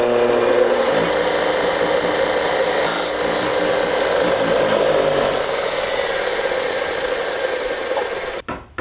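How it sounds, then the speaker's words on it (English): A belt sander runs steadily with a tri-square set against it, giving a continuous abrasive rasp and motor hum, loud and close, that cuts off abruptly near the end. "So what I've done here is I've set up an old tri-square against my belt sander."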